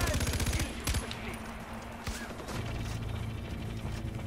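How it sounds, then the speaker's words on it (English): Gunfire in Far Cry 4, bursts of rapid shots near the start followed by scattered single cracks, over a rumbling engine-like hum that grows louder later. "Why are they shooting me, dude?"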